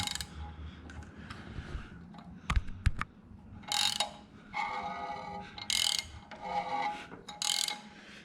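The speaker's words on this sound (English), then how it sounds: "We're gonna spin the motor around." A car engine's crankshaft is turned over by hand with a ratchet, making bursts of quick clicking ratchet strokes separated by short pauses and a few sharp metallic knocks, close and fairly quiet.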